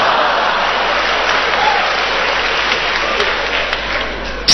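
Theatre audience at a Beijing lecture tour event applauding, a dense sustained wash of clapping from many hands, loud and even from start to finish with no talk over it.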